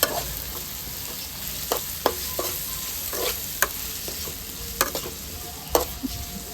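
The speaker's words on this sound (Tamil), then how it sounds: "நல்லா வதக்கிக்கோங்க உங்களால முடிஞ்ச அளவு" Food sautéing in a pan: an even crackling sizzle throughout, broken by sharp scrapes and taps of a spatula against the metal at irregular intervals, close and fairly loud.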